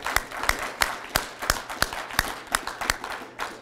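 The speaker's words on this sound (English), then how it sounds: "Let's give them a round of applause." Audience applause for the Basin Arts Council at a historical lecture seminar, a run of sharp, evenly spaced claps from a modest crowd, steady and moderately loud for several seconds.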